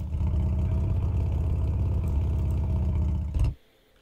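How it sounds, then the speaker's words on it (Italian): A motorcycle engine running in the Motorcycle Mechanic Simulator 2021 video game, a steady, loud mid-pitched idle rumble that cuts off abruptly near the end. "Ma la moto si accende però."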